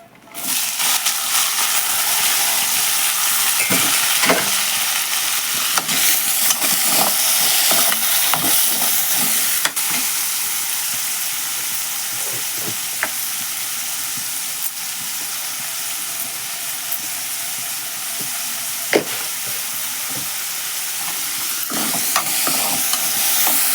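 Onions stirred and frying in a non-stick pan give a steady, loud sizzle with occasional spatula scrapes and clicks throughout, close and continuous.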